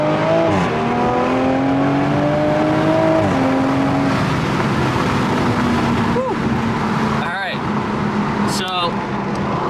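Engine of a small, light, mostly stock BMW shop car revving up close and loud, pitch climbing and dropping through several blips over a sustained mechanical drone.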